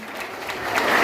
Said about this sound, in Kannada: ಹಾಗಾಗಿ ಒಂದ್ಸತಿ ಚಪ್ಪಾಳೆ ಹಾಕಿ ನೋಡೋಣ